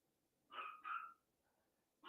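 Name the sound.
dog barking in the background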